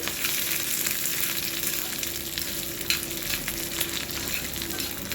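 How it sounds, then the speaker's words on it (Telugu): Lentils and dried red chillies fry in oil in a pan, giving a steady, dense sizzle that runs unbroken from start to finish with no voice. "ఇంకా ఫ్రై అవ్వనివ్వాలి పప్పులో ఎండుమిరపకాయలు కూడా ఫ్రై అయినాయండి"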